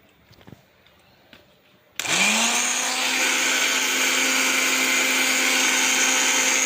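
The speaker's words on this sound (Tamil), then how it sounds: "ஆறினப்புறம் ஒரு மிக்ஸி ஜாரில் போட்டுக்கினேன், அரைச்சிடலாம்." A mixer grinder jar grinding curry leaves and ginger whirs into life abruptly after a couple of quiet seconds, then runs loud and steady with a high motor whine.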